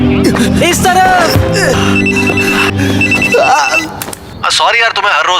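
A telephone rings loudly in repeated electronic trills. Voices and music play underneath it for most of the stretch, and then the ringing stops and talking continues.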